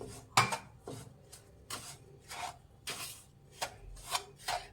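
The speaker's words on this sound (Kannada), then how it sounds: "ಈಗ ಸಕ್ಕರೆ ಪುಡಿ ಹಾಕೋಣ ಮಿಕ್ಸ್ ಮಾಡಿ" Powdered sugar is stirred into rava in a pan, a spoon or spatula giving scattered scraping and rubbing strokes, some sharp, some soft, at close range with no talking.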